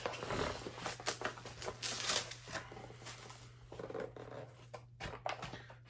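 Zipper on the case of a Sean O'Connell LBXL or CRKT Provoke knife being unboxed, a string of close, scratchy zipping and rustling bursts of handling noise over a low steady hum.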